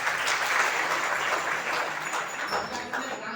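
An audience at a kirtan claps in a dense, steady burst of many hands that fades slightly toward the end, with no speech over it.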